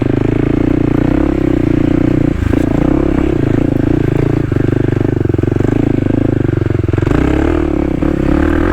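A Kawasaki KLX300 dual-sport motorcycle rides a woods trail, its single-cylinder engine droning steadily close up and loud throughout, with small shifts in pitch as the throttle changes and faint clatter from the rough ground.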